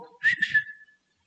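A person whistles a short, bright rising-and-falling phrase of a few notes, close and clear, fading out at the end with no other sound around it.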